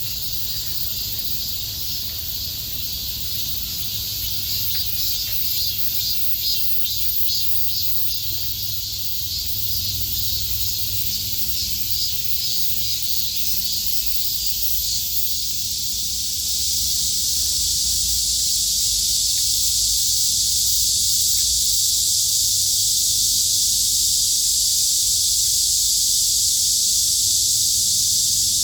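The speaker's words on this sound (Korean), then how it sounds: "매미 우는 소리가 어지간히 시끄럽네요." Loud, continuous cicada buzzing fills the air, a dense high-pitched drone that swells and grows even louder partway through.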